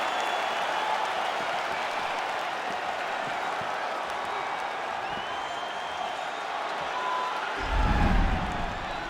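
Steady crowd noise from an arena in the EA Sports UFC 5 video game, a broad roar of cheering and clapping that swells slightly near the end.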